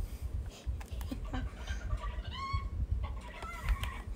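Chickens clucking in Fortnite, several short clucks and a rising squawk over a steady low rumble of game background noise, close and moderately loud.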